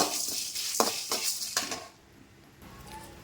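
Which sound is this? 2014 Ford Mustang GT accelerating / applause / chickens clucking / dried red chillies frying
dried red chillies frying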